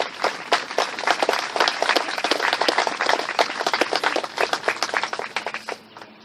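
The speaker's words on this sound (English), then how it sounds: "Let's give the soldier a round of applause." An audience at a military family day award ceremony applauds a soldier, steady dense clapping from many hands that holds for several seconds and then thins out toward the end.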